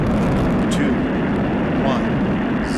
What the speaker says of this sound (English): liftoff of Space Shuttle Atlantis on a mission to build, resupply, and to do research on the International Space Station